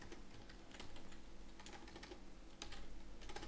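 Quiet, rapid keystrokes patter on an English-layout computer keyboard, a steady run of soft clicks over low background hum.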